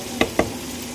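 Garlic frying in oil until lightly brown, a close steady sizzle with two quick scraping stirs of a utensil in the pan.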